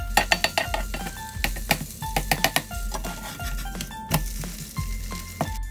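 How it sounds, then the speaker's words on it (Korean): Okonomiyaki sizzles in a frying pan while a utensil clinks and scrapes against the metal several times in an irregular rhythm. "오코노미야끼를 부쳐주시면 됩니다"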